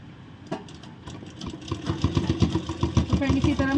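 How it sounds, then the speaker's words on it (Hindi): A sewing machine runs a line of stitches along the folded edge of a palazzo pant, its rapid steady clatter building from a slow start into a fast regular rhythm, close and moderately loud. "फिर से हम यहाँ से इसको इस तरह फोल्ड करेंगे और इस पे सिलाई लगाएंगे।"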